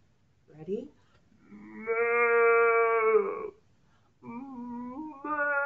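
Children's voices imitate a black and white cow on a farm with long drawn-out moos, one short call followed by a sustained loud moo and then two more, close and clear, with a brief spoken prompt.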